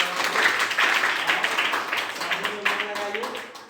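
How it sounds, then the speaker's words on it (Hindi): A small audience claps for a child, loose uneven clapping rising and thinning across a few seconds, with voices mixed in underneath. "इनके लिए एक बार ताली"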